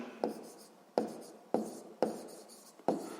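Pen strokes on paper while a maths solution is written out, five distinct scratchy taps spaced about half a second apart, close and clear with no talk.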